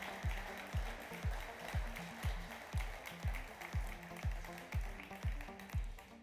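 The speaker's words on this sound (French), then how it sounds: "on les applaudit bien fort" An audience at an entrepreneurs' event applauds a team as it arrives: a dense, steady wash of clapping over a regular, thumping low beat that pulses about twice a second throughout.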